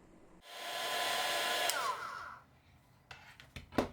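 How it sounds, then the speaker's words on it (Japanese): A hair dryer blows hot air onto decals on a Ferrari 312T scale model kit, a steady close whoosh for about two seconds that then cuts off, followed by a few faint clicks and handling taps. "ドライヤー熱で強制施工。"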